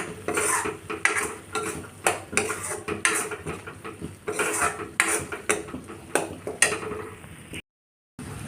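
Spinach paste for palak paneer being stirred in a pan: repeated metal spoon scrapes and clinks against the pan in an uneven rhythm, close and fairly loud, with only a faint sizzle underneath and a brief dropout near the end.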